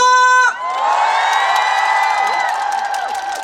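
A large outdoor crowd at a cherry blossom festival opening ceremony roars and whoops with clapping, a loud sustained cheer rising right after a tone and carrying on for several seconds.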